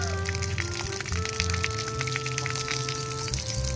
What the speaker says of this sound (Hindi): बारिश हो गई, बारिश हो गई, बारिश, ये देखे।